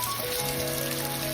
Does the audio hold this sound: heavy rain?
yes